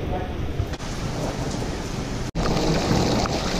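Storm noise outdoors during a tornado, with a steady broadband roar of heavy rain and wind that cuts out for a split second, then returns loud and constant.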